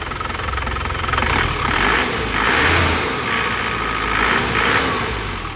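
A 2006 Isuzu Panther Grand Touring turbo diesel engine runs loud and close with a gritty, clattering rumble, its pitch swelling and easing in a few gentle revs.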